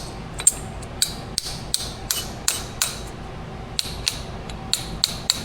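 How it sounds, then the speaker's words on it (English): A metal hammer taps a bearing race onto a differential shaft of a 6.0 Silverado 4x4, giving a series of light, bright metallic tinks at an uneven rhythm, close by over a steady background hum. "can kind of just tink this in with a metal hammer just to get it started"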